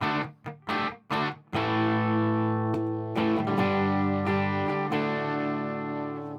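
Distorted electric guitar through a Quilter 101 Mini Reverb amp: a few short choppy stabs, then sustained ringing chords held loud and steady with a thick, overdriven tone.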